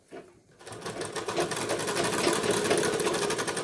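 Sewing machine stitching a blouse sleeve, starting after a brief pause and then running at a fast, even, steady rhythm, close and continuous with a light mechanical whir.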